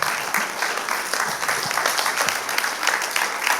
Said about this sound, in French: J'ai envie qu'on les applaudisse vraiment très fort.